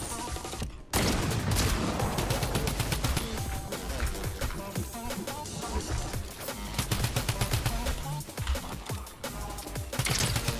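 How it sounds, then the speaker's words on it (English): A drum gun in Fortnite fires in a long, dense stream of rapid shots, loud and sustained for about ten seconds after a brief opening pause, with other game sounds mixed in. "Oh, drum gun go crazy."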